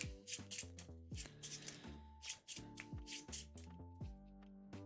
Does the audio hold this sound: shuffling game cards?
yes